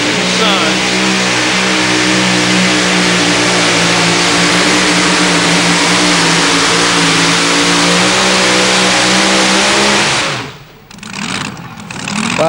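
A 2WD pulling truck with a 526 cubic inch engine in a 1937 Chevrolet body roars at sustained high revs at a truck pull, loud and steady before dropping off near the end.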